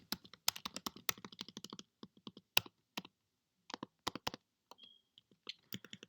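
Crisp, close keystrokes clatter on a computer keyboard as code is typed for a Flask web project, coming in quick runs of clicks broken by short pauses, quiet and without talk.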